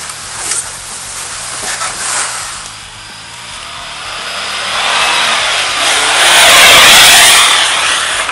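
A Toyota Tacoma truck engine revving hard off-road in northern Wisconsin, with a broad roar that swells over the last few seconds and peaks loudly near the end.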